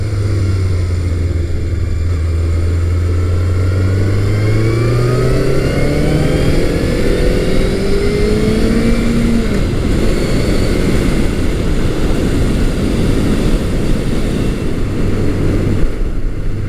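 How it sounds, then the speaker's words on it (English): A Honda Nighthawk 750 motorcycle engine, loud and close while riding, revs rising steadily through the gears with a short dip at a shift, then holds a strong drone under rushing wind. "What a beautiful day to be out riding a classic Honda."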